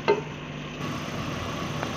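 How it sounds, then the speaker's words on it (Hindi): Potato slices frying and being stirred in a pan, a steady soft sizzle with faint scraping from the stirring, heard alone at close range. "अच्छी तरह ये भून रहे हैं"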